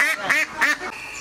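Ducks on a duck farm quack in three loud, close bursts in quick succession, followed by a quieter trailing call and faint background noise, with no talking.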